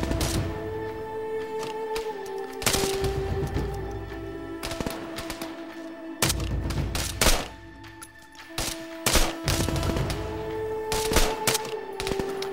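Machine gun fire rattles through a video game in repeated rapid bursts and volleys, loud and close over a steady droning background hum.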